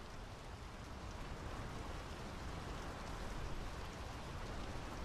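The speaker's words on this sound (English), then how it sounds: "The rain's picking up." Steady rain pours down in the video game Draugen, a dense, even hiss of drops on surfaces that holds constant and fairly close throughout, with no voices over it.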